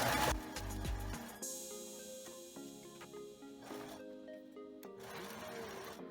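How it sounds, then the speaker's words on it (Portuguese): A sewing machine runs a straight seam on a skirt, closing the elastic, in short bursts of steady mechanical whirring with pauses between stitching runs, close and fairly quiet with no talking. "Aqui eu vou fazer uma costura reta."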